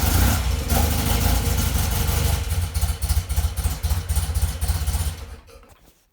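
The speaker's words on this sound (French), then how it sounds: "On va pouvoir vérifier si notre moto va enfin démarrer." A BMW R75/7 motorcycle, fresh battery fitted, runs loudly and close by with a rough, pulsing engine note, the rhythm growing choppier before the sound fades out near the end.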